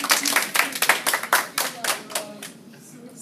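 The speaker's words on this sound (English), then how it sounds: "Round of applause." Classroom round of applause: a short burst of rhythmic hand clapping from a group of students, loud and close at first, thinning out and fading toward the end.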